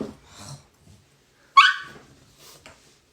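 A loose dog gives one sharp, close bark between quieter breathy panting and whimpering sounds, with short silent gaps in between.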